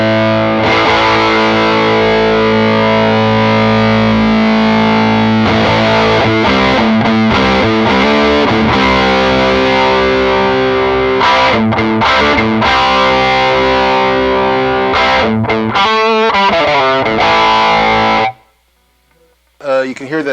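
Sustained electric guitar chords through a Katzenkönig fuzz pedal, thick and fuzzy, growing chunkier and more saturated as the gain knob is turned up, then cutting off abruptly to near silence.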